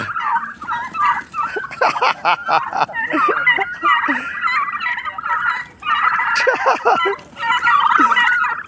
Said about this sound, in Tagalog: Bully kayo mga pabo ha.